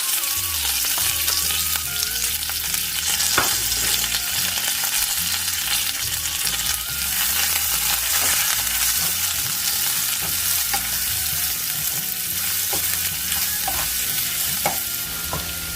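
Onion, green chili and curry leaves sautéing in hot oil for poha, a steady close sizzle broken by repeated scraping stirs of a spoon against the pan, continuous throughout with no voices.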